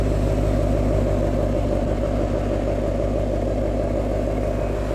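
A Ferrari-derived 4.7-litre V8 idles steadily and close by, a loud, even low rumble with a constant throb that holds unchanged throughout.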